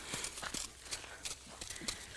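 Horse hooves thudding on the ground during groundwork jumping exercises with a young horse, a few irregular, fairly close clip-clop impacts spread across a short stretch with faint background noise.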